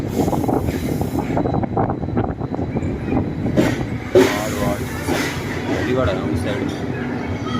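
Train sounds at Marwar station in Rajasthan, on a journey from Jaisalmer to Delhi aboard the Ranikhet Express, with steady rolling and clatter from railway cars and a brief squeal, while people talk throughout.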